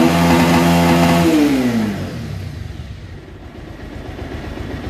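A motorcycle engine, just fitted with new piston rings, revs loudly at close range and then drops back to an even idle that holds steady to the end.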